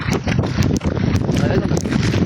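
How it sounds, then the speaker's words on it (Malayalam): Strong wind with no rain buffets outdoors, a loud, continuous rumbling gust with irregular thumps and rustles, close to the microphone. "മഴയില്ല, നല്ല കാറ്റ്."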